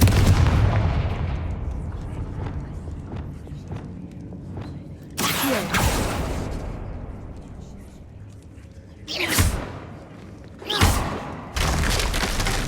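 Several Confringo spell blasts from the Hogwarts Legacy video game, three or four separate sharp booming bursts, break through a continuous bed of game sound and low rumble.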